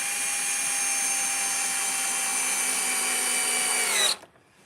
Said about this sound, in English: And you just drill these pilot holes to make sure that the wood doesn't split.